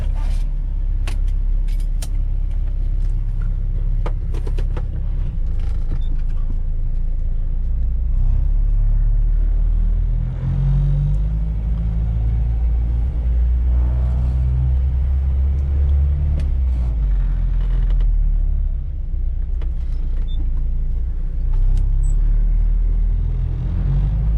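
A 1973 Audi 100 LS driving from inside the cabin, its engine a steady low rumble that swells and dips as the gears change, with road noise throughout and no talking.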